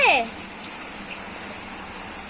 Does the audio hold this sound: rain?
yes